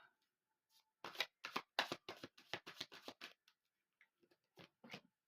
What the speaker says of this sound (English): Oh, and another shuffle.